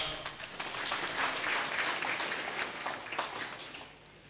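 Audience applause at a college convocation ceremony for a graduating finalist, a dense wash of many hands clapping at moderate distance, swelling then fading toward the end, no speech.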